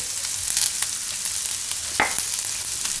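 Capsicum frying in a pan for bhurji fried rice gives a steady, close hiss and sizzle, broken by a few sharp spatula scrapes and clinks as it is stirred.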